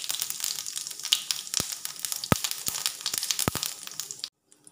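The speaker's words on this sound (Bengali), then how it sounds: "তেল গরম হয়ে গেছে, এবার দিয়ে দিচ্ছি একটা তেজপাতা। দিয়ে দিচ্ছি জিরে।" A bay leaf and cumin seeds sizzle steadily in hot oil, a close crackling hiss broken by a few sharp pops before it suddenly cuts out.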